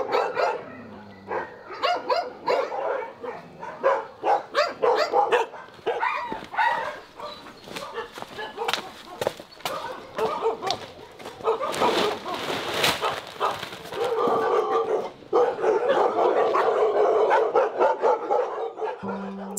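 Several dogs at an animal shelter bark and yip in dense, overlapping bursts, close and loud, with steady background noise throughout.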